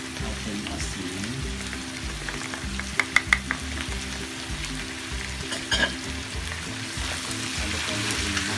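Beef caldereta sizzling and being stirred in a pan, a steady close frying hiss with a few clinks and scrapes of the utensil against the pan.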